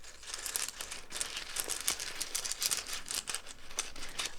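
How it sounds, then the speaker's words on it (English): Continuous clattering and rattling of small hard rune pieces being shuffled together, a dense, crinkly jumble of clicks close by with no voices. "I just love the sound of shuffling the runes around."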